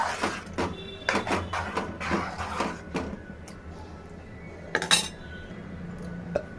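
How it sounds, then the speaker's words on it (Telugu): Cauliflower and brinjal curry with tamarind water is stirred in a pot, making a run of close metallic spoon scrapes and clinks, then a quieter stretch and a couple of sharper knocks near the end. "బాగా కలపాలి."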